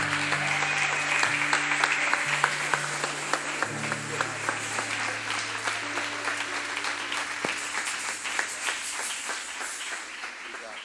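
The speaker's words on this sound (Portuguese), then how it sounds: "aplauda mais forte, igreja" A church congregation applauding at a worship service, a dense steady wash of clapping that runs the whole stretch while sustained music tones hold underneath, thinning slightly toward the end.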